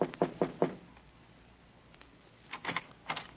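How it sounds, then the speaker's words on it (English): Knocking on an office door for a radio drama, four quick raps, a pause, then two more brief clusters of knocks, close and alone without speech. "so I knocked on the door."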